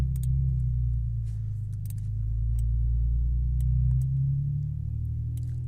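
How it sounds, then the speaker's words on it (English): Loud BMW engine rumbling nearby, a deep steady drone that swells and eases as it passes, with faint ticking clicks on top and no talking. "very loud BMW next to me"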